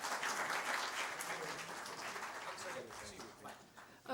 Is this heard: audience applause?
yes